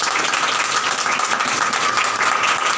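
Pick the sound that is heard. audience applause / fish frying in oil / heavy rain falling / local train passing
audience applause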